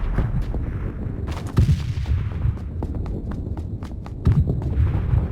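Bombs falling and exploding in the game PUBG on the Sanhok map, repeated deep booming blasts with a low rumbling hum between them, loud and near, without talk.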